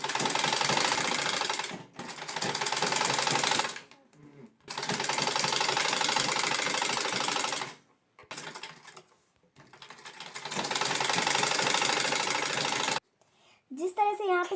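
A sewing machine stitching the lining of a blouse runs in several long, steady bursts with short silent gaps between them, loud and close, and a voice comes in briefly at the end.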